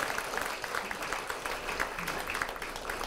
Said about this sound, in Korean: 우리 서병수 시장님 큰 박수로 맞아주시기 바랍니다